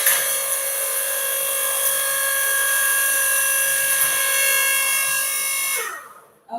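QTP5553 4T electric hydraulic log splitter running, a steady, loud motor whine with strong tonal harmonics that holds evenly and then winds down at the end.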